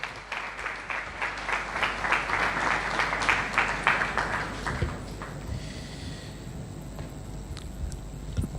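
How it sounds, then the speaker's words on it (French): Audience applause at a formal ceremony, building to dense clapping in the first half and then fading to scattered claps and room noise. "Sous vos applaudissements, s'il vous plaît."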